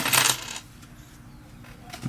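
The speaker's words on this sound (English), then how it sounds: "separate my coins so that I can put them all back" Coins clatter as they are dropped and sorted by hand, a loud burst of jingling metal at the start, then quieter handling and a final clink near the end.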